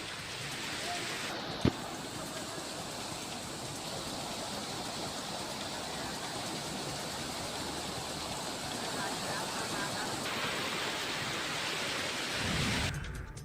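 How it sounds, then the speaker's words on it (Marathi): Chandeshwari waterfall near Kasari in the ghat area of Nandgaon taluka pours after heavy rain, a steady, dense roar of rushing water that fills the scene continuously at close range, with a brief sharp knock near the start. "जोरदार पावसानं चांदेश्वरी धबधबा वाहू लागला"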